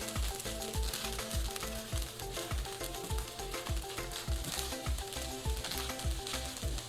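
Cooked stuffed-tofu filling stirred in a hot pan with the heat turned off, a soft sizzle and stirring beneath loud rhythmic background music.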